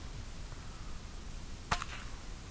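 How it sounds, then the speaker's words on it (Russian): One faint, sharp crack from the small-caliber rifle barrel of a Sever combination gun sounds once against a steady hiss of background noise, distant and brief. "выстрел из малокалиберной винтовки"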